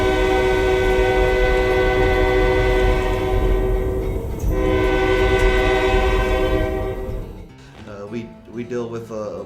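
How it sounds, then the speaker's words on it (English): Railway locomotive horn on a working short-line railroad, blaring loud and steady for about seven seconds with layered tones, then cutting off as voices and rail noise follow. "so they'll get a whistle."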